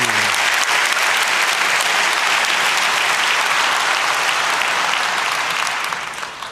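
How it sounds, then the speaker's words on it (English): A conference hall audience at the 30c3 hacking congress bursts into loud, sustained applause for a speaker taking the stage; dense clapping fills the space evenly, then starts to fade near the end. "Give a warm hand of applause to Mr."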